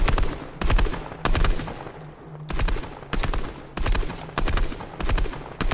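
Rapid bursts of automatic gunfire from a Fortnite Battle Royale match, AK-style rifle shots fired in short repeated volleys with brief pauses between them, loud and close.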